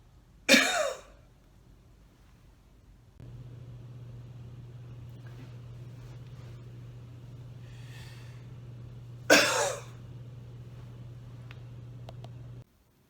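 Two separate deliberate coughs, each following a deep breath and hold, sound close and sharp several seconds apart, with a steady low hum between them in a quiet room.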